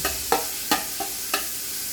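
Garlic sautéing in margarine in a pan, a constant bright sizzle broken by four sharp spatula scrapes at a slow, uneven rhythm, close up with no talking.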